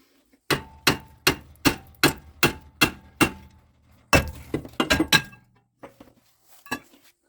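A hammer strikes an old brake rotor on the rear hub of a Jeep Renegade in eight sharp, evenly spaced metallic clangs, then a quicker cluster of hits and a few scattered lighter knocks.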